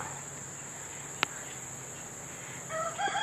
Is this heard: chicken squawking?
yes